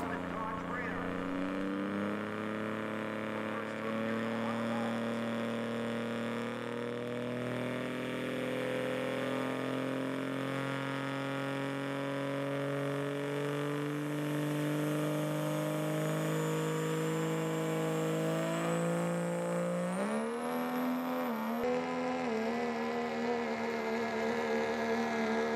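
A hot rod diesel 4x4 pulling truck makes its run, its engine droning steadily for a long stretch before surging to a higher, harder roar near the end and then cutting off.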